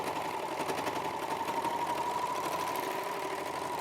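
A sewing machine stitches fabric in a steady, rapid mechanical whir with even needle clatter, continuous and fairly close for a few seconds with no talking.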